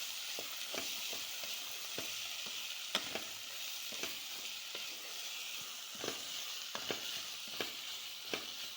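Capsicum frying in oil in a home kitchen pan, a soft continuous sizzle punctuated by frequent sharp clicks and scrapes from a stirring spoon, fairly quiet and close.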